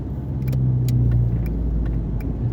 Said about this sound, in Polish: Jak śmiesznie ciąga samochód